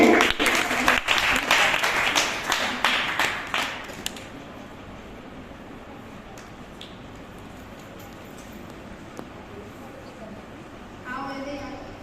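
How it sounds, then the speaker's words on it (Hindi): An audience at a school seminar on festivals in Vishwas Nagar, Delhi breaks into clapping for a few seconds before it thins out into quiet room sound, with a short burst of hand claps again near the end. "ताली बजाते रहें।"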